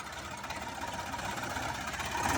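Eicher 551 4x4 tractor working in deep mud: a steady diesel engine drone with a rhythmic knocking throb that builds slightly in loudness, with no voices.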